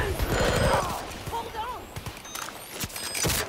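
Gunfire bursts in the Battlefield video game crackle over game ambience and a male player's voice talking through the action.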